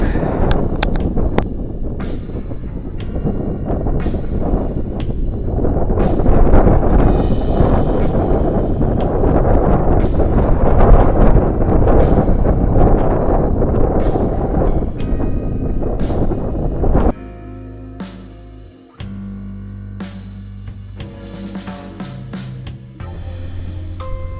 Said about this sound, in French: je me recule parce qu'avec le vent on va rien entendre